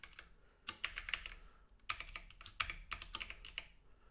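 Fingers type on a computer keyboard in quick, uneven bursts of clicking keystrokes with short pauses between them, fairly close and quiet, with no one talking.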